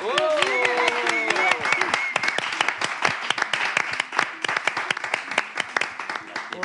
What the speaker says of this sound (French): on va l'applaudir